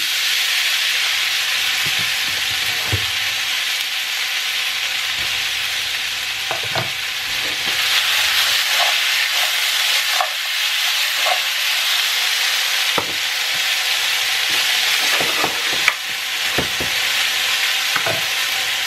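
Potatoes fry in hot oil in a pan on a stovetop, a loud, steady close sizzle and hiss with occasional scraping and stirring taps.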